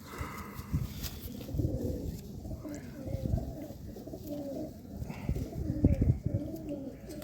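Pigeons coo in a loft, a low rolling murmur repeating throughout, with a female among the birds; someone talks over the cooing at close range.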